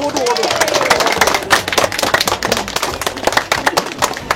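A crowd claps loudly and steadily at a bonsai enthusiasts' gathering, brisk dense hand claps running throughout, with a voice over the start.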